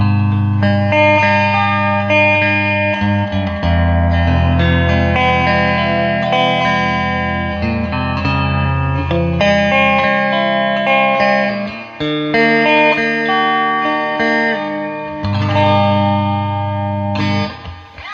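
A clean electric guitar plays chords and single notes through a Fender Twin Reverb Silverface amp with the bright switch engaged, a bright, crisp top end and a wash of reverb, steady and fairly loud.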